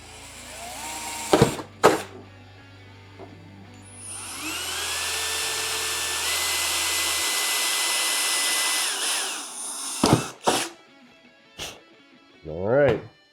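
A 12V cordless drill fitted with an eighth inch bit bores holes in a steady high-pitched whine lasting several seconds. Short clicks and thumps fall before and after, and a low hum runs underneath early on.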